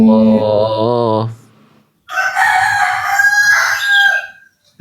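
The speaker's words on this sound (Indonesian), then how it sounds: "soalnya ini di dalam kebun ini, jadi suara ayam" A rooster in a garden gives a loud, close, drawn-out crow, then after a brief pause a second harsh crowing call with clucking chickens around it.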